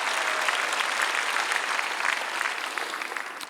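A church congregation at a Korean peace and unification revival service applauds in a sustained, even wash of clapping that tapers slightly toward the end, with no voices over it.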